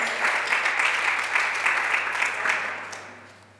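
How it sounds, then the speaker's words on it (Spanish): A lecture hall audience at a science and comedy event claps in a sustained, dense burst that stays even before tapering off toward the end. "Un aplauso, por favor."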